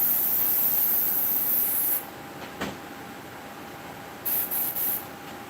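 A Paasche H airbrush sprays carburetor cleaner in a loud, steady hiss that cuts off after about two seconds, then comes back in several short bursts near the end.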